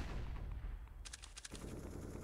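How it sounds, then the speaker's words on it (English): Wall-bang gunfire from a CS:GO match on the Train map at a pro esports event: a quick burst of several sharp shots in rapid succession, heard over a steady low crowd and game ambience. "it's a wall bang even towards that bomb train, hoping to knock Simple off his perch"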